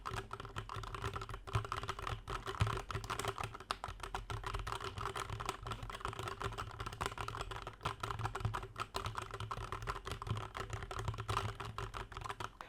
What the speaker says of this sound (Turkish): Mekanik tuşların sesini soracak olursanız da Biraz daha bu anahtarlar linear denilen yani doğrusal, tıklamalı değil.